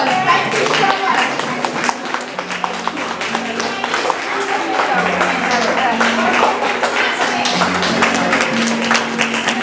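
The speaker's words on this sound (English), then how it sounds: "Let's give them another round of applause." An audience applauds dancers at a Greek American cultural show with steady clapping, while voices and music tones carry through underneath.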